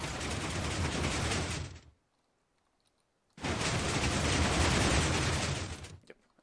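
A large 5x5 redstone piston door in Minecraft opens and closes, each cycle a dense, loud mechanical clatter lasting about two seconds, separated by a short silence.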